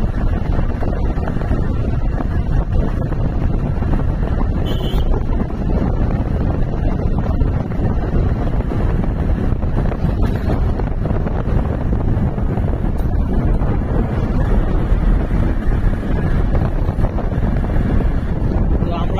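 A vehicle travels at good speed along a rural road at night, steady rumbling road and engine noise buffeted by constant wind noise on the microphone throughout.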